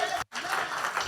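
A church congregation claps and applauds at a Good Friday Easter service, a dense wash of applause with a brief gap near the start, mixed with murmuring voices.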